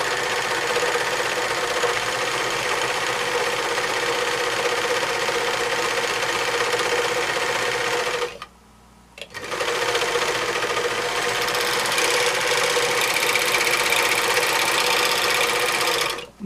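A serger overlocker stitches and trims thread in a fast, continuous whirring drone, stopping briefly for about a second midway before running on at full speed to the end.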